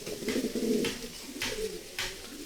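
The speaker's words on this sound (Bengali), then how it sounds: "প্রচণ্ড ডাকে ভাই, একদম অস্থির একটা লেভেলের কবুতর" A pair of leg-tagged, top-quality pigeons coos loudly and close by in repeated throaty rolls, each phrase ending in a sharper burst, with no voices over them.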